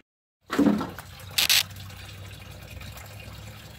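Water drains from the radiator of a 2002 Grand Marquis during a coolant flush. It starts with a sudden splash, then settles into a steady close trickle, with one brief louder gush partway through.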